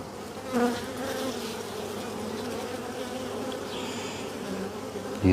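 Honeybees buzz steadily in an open beehive whose colony has lost its queen, a dense, even drone filling the whole stretch and swelling briefly near the start and again at the very end.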